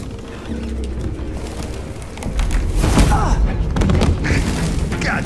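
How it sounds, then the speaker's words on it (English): Pigeons cooing and flapping in the Detroit Become Human video game: fluttering wing bursts and thumps over a rumbling game background, growing louder midway, with a voice speaking over it. "Damn fucking pigeons!"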